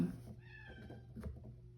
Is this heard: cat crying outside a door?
yes